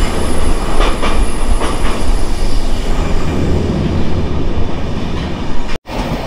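An express train running on the Pune to Lonavala line with a metro train passing overhead, giving a loud, steady, close rumble with rail clatter throughout and a brief dropout near the end.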